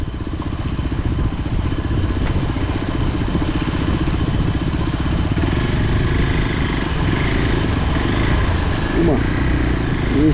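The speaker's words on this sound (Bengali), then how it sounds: "এইসব রোডে বাইক চালানোর জন্যই এই যে অফ রোডিং বাইকটা নিয়েছি।" An off-road motorcycle rides a mountain road through the Himalayas near Manang, Nepal. Its engine drones steadily and loudly, close up, with some clatter throughout.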